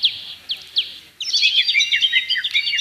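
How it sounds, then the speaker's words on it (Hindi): Bird chirps play as a sound effect during a staged scene of a dove being released: a few separate tweets, then a quick run of chirps, clear and close. "फिर उसने अपने पास से एक कबूतरी को भी उड़ा दिया"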